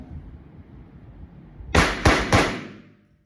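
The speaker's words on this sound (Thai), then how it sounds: "เดี๋ยวเราจะมาทดสอบยิงกันนะครับ" A Beretta 87 pistol fires three sharp, loud shots in quick succession at an outdoor shooting range. Each crack rings briefly, and quiet background noise comes before them.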